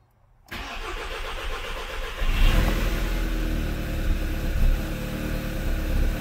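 A 2011 Audi TT Quattro with a 2.0T TFSI engine, under repair after engine damage, cranks after a moment of silence and catches, then runs on as a loud, steady engine rumble close by with a brief rise in revs.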